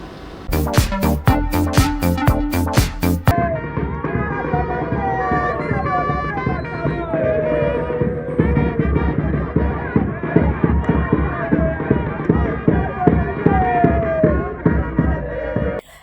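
A jubilant carnival crowd in the Mongafula neighbourhoods fills the air with singing, brass band music and tambourines, opening with sharp rhythmic bursts, then a dense, continuous, loud wash of festive voices and instruments.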